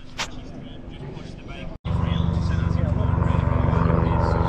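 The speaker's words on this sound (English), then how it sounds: "Can you hear the helicopter?" A helicopter flies over the Isle of Man TT motorcycle road race, a steady loud rotor and engine drone filling the scene after a brief cut, with people talking over it.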